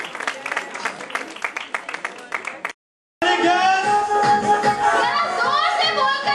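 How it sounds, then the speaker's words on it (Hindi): Audience applause rings out at a singing competition grand finale, a burst of clapping that cuts to silence and then gives way to loud music. "जोरदार तालियों।"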